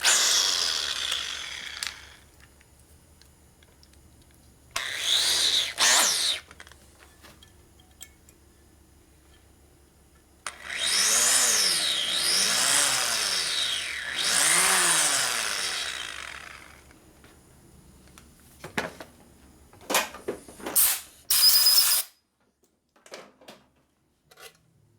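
A drill bores into a part from a 1967 Harley-Davidson 74ci shovelhead motor in several bursts of grinding cutting, close and loud, with brief pauses and scattered clicks of handling between runs.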